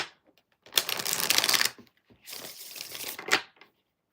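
Oracle blessing cards are shuffled in two separate bursts of crisp riffling and flicking, close and fairly loud, with brief quiet gaps and no talking.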